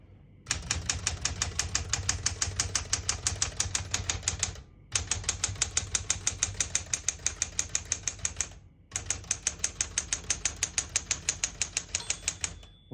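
Keys strike rapidly and evenly on a 1970 Smith-Corona Classic 10 portable typewriter, fast crisp clacking in three long runs separated by brief pauses, close and clear with no talking.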